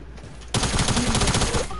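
Rapid combat shotgun blasts in a video game burst in suddenly after a quiet moment, a loud, close string of quick repeated shots that keeps going.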